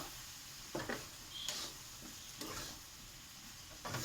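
Okra, prawn and potato curry with white mustard stir-fried in a pan, a faint low sizzle with several soft spatula scrapes spaced about a second apart, quiet and without speech.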